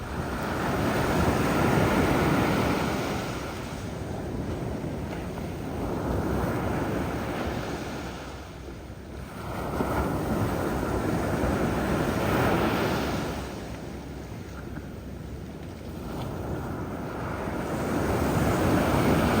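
Sea waves roll onto the beach at Sokcho, Korea at sunrise, a broad rushing surf that swells and recedes in slow surges every few seconds, with wind buffeting the microphone and no talking.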